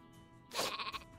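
A sheep bleats in the artillery game Worms W.M.D, a single loud, wavering baa rising over a quiet game background, heard alone with no talking.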